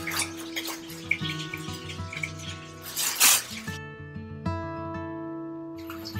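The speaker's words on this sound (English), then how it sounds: "take around 2 handfuls of your favorite green salad and give it a quick wash" Green salad leaves rinsed under a running tap in a kitchen sink, a steady trickle of water with light splashing and a few drips, close and fairly quiet, with no talking.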